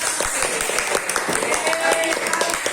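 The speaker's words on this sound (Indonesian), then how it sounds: "Ya beri tepuk tangan bagi teman-teman." A classroom audience applauds students after a presentation, with dense, continuous clapping close by and individual sharp claps standing out, while a voice speaks faintly underneath.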